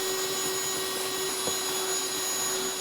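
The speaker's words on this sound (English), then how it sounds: "I'm gonna vacuum all this up." A vacuum cleaner runs continuously while sucking up wood shavings in a cabinet-making workshop, a steady loud whine with a few rattling clicks of debris.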